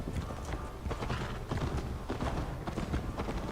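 Horse hooves clip-clop steadily under a rider in Assassin's Creed Valhalla, a continuous close rhythm over a busy in-game ambience.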